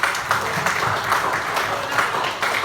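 Classroom applause during a practice teaching lesson, a brief burst of steady clapping from a group of students with some voices mixed in.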